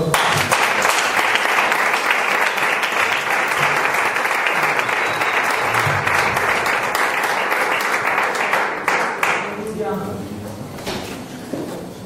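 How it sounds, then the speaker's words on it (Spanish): Church congregation applauding loudly and steadily after a sermon, a dense wash of many hands that tapers off toward the end as a voice begins speaking. "Un aplauso para el Señor."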